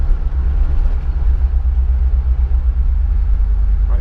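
An LT4-powered Jeep Grand Wagoneer on the move, heard from inside as a loud, steady low engine rumble and road drone that holds evenly throughout.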